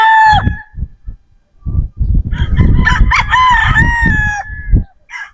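Gamecock roosters from an early-hatched selection batch crow loudly and close by, one long crow followed by several overlapping crows from others, with a few short clucks between.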